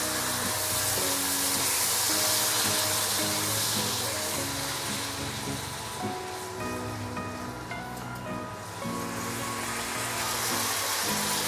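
Soy sauce hits pork belly and tilapia in a hot pan, giving a loud, steady sizzle and hiss like heavy rain that continues without a break.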